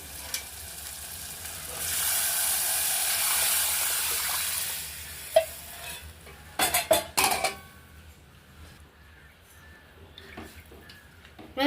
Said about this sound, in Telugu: ఇప్పుడు నేను దహి తీసుకున్నాను ఈ దహి తాలింపు వేసుకుంటున్నాను చూడండి